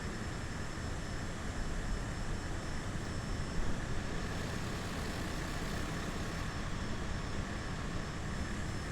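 Aircraft engines in a video game drone as a faint, steady, wideband roar with a thin high whine, continuous and unbroken, with no voices.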